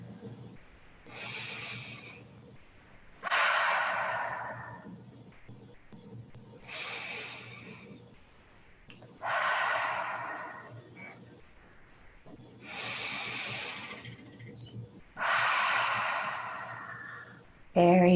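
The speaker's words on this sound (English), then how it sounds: "and just listen to our breath." Slow, deep breaths during a children's yoga exercise: each soft, airy inhale and exhale swells and fades in a steady rhythm about every three seconds, close and alone over a low background hum.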